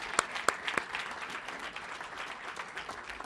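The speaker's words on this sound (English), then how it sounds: "So let's all give ourselves a round of applause." Applause at a press conference opening a Prop HHH housing unit, a crowd clapping steadily at moderate distance, with a few sharper nearby claps standing out at the start.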